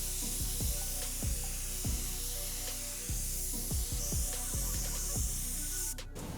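A SATA spray gun with a 1.0 tip lays automotive primer onto a bumper, giving a close, continuous airy hiss, with a string of repeated low thumps throughout and a brief burst near the end.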